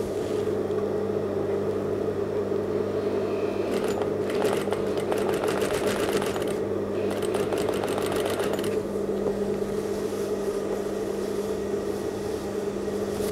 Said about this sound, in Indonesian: jahit keliling.